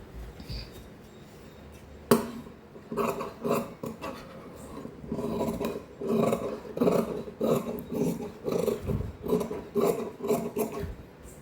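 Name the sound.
scissors cutting blouse fabric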